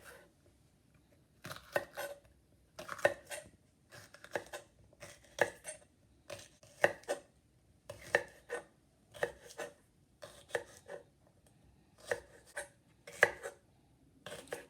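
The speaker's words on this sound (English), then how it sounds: "Cutting up my pepper." A knife chops through a pepper on a board in steady, crisp strokes, grouped in quick pairs and runs with short pauses between, close and fairly quiet, with nobody talking.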